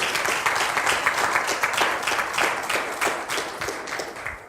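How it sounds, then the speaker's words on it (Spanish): A church congregation claps in sustained applause during a Sunday service, dense continuous clapping at steady loudness throughout, with no clear voices over it. "Oh, de ese aplauso al Señor."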